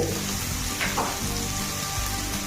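Onions frying in hot oil with panch phoron spice mix give a continuous, close sizzle and crackle with brief stirring scrapes, steady and fairly loud throughout.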